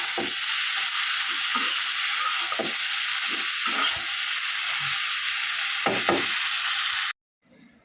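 Bhaji with poppy seeds, chili and salt sizzling steadily in a pan, with a constant frying hiss and repeated knocks of a spoon stirring against the pan before the sound cuts off.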